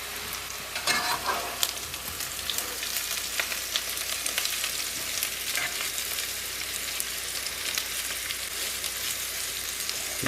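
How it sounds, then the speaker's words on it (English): Food sizzles steadily in a frying pan on an outdoor camp stove at a wilderness ski camp, with scraping stirs breaking in now and then over the continuous crackle. "Dump those in. Give me a stir here."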